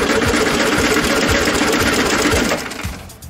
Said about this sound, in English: go ahead and crank them over